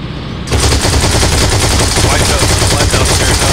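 Rapid, continuous automatic gunfire from a mounted gun in the video game Heroes & Generals, loud and dense, bursting in after a brief quieter moment and hammering on without pause.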